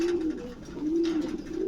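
Pigeons coo at a large pigeon farm in Kanaipur, Faridpur, Bangladesh, a steady run of low rolling coos rising and falling, fairly close and clear with a soft background hiss.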